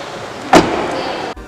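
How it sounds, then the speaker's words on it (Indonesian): A 2020 Toyota Corolla Cross door shuts with a single solid, close thud, followed by a short muffled hush as the cabin seals. "suara tutupan pintu dari Toyota itu terkenal bagus ya"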